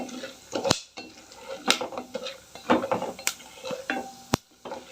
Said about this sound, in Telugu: పల్లీలు అయితే చిప్పట్లాడుతున్నాయి